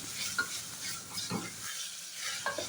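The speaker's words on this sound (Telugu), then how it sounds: "ఈ పేస్ట్ కూడా ఆయిల్లో చక్కగా ఫ్రై అయిపోవాలి బాగా కలిపేసుకుని అన్నీ వేపేసుకోవాలి" Spice paste frying in oil as it is stirred with a spoon, a quiet crackling sizzle with soft scraping strokes, faint and close, with no one talking.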